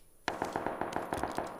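Rapid crackling gunfire in PUBG, a dense burst of sharp repeated cracks starting abruptly and continuing evenly for over a second, fairly close and alone.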